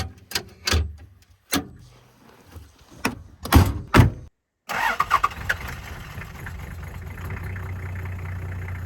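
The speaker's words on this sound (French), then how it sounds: "Le démarrage à froid qui passe tout seul." A campervan-converted 4x4 on a frozen sea makes several loud knocks and thuds, then after a short gap its engine cold-starts and settles into a steady rumbling idle.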